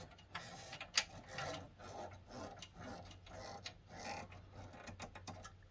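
A screw being driven to fix a hull section onto a Titanic model kit, with repeated close rasping, ratcheting and rubbing mechanical strokes throughout, no speech.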